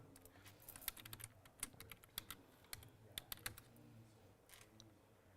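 Someone typing a password on a computer keyboard, with quick, irregular clicks and taps in short bursts, close and quiet, and no talking.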